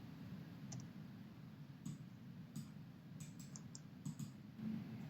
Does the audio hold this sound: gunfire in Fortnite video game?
no